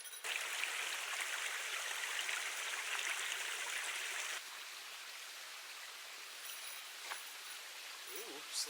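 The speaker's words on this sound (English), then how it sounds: "we are crossing the stream, which means it's time to filter some water" Water in a mountain stream on a rim trail rushes as a steady, fairly close wash of broadband noise. It drops in level about halfway through and continues more softly, with a faint voice near the end.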